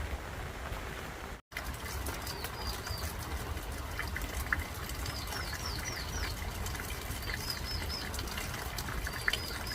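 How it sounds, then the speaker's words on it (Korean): Steady rainwater dripping and trickling from the eaves into a water container below in an uneven patter, with faint bird chirps scattered in the background. "처마에서 물이 떨어집니다"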